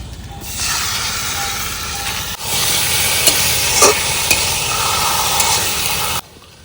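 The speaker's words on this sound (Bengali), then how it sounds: "এবার মাংসটা, কষানো মাংসটা ঢেলে দেবো" Chicken pieces poured onto browned onions and fried together in a pan while being stirred; a loud, steady sizzle with a sharp dull knock partway through, scattered scraping clicks, then an abrupt stop. No one speaks.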